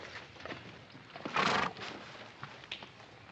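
A horse gives a loud whinny midway, set among faint clip-clop of hooves on a quiet outdoor trail.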